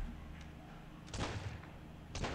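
Gunshots from the Wild West Survival zombie FPS game on Android: two sharp, loud broadband bursts about a second apart, each with a brief tail, over a low steady game backdrop.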